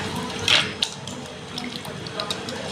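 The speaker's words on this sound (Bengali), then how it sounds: "ভালো করে একটু ধুয়ে নিচ্ছি।" Salted raw mango pieces get washed in water, with sloshing and splashing close by, including a brighter splash burst near the start and a steady wet rustle after it.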